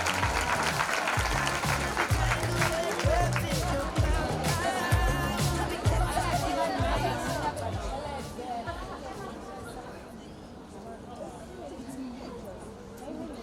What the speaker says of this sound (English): can we please give a warm round of applause